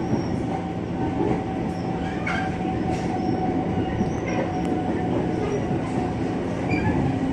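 A Commuter Line train in Jakarta running on track between Kampung Bandan and Angke, with a steady rolling rumble, rhythmic wheel clatter and occasional faint squeals, heard from on board.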